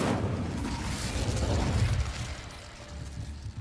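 The Incendio fire spell goes off in Hogwarts Legacy with a dense, rumbling burst of fiery whooshing and crackle that fills the space, loud and continuous, then eases slightly near the end.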